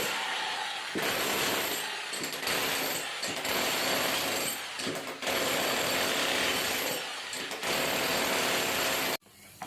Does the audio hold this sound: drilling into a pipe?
yes